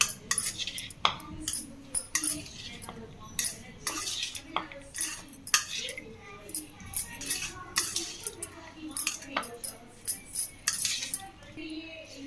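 Spoon scraping and clinking against a bowl while masala papad topping is mixed with half a lemon's juice, a brisk run of repeated metallic taps and stirs, close and fairly loud with no talking.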